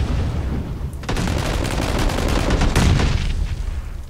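Grenade blast in the battle game PUBG, a dense broadband roar filling the whole stretch with sharper cracks near the start and again later, loud and continuous with no talk.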